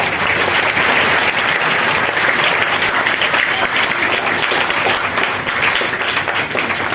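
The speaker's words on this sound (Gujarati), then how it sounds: "એમનું આપણે જોરદાર તાળીઓથી સ્વાગત કરશું." An audience at a school children's science exhibition and art festival in Wankaner welcomes a guest with loud, dense applause that runs unbroken for the whole stretch.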